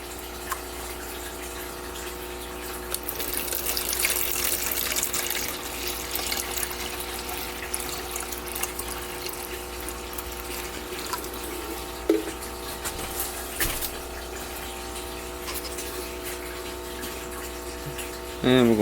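Tap water runs steadily into a container for propagating Mexican petunia cuttings, a faint continuous hiss with a few clinks and a voice talking now and then.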